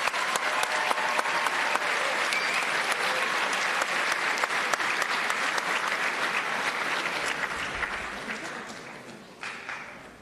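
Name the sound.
audience applause at school graduation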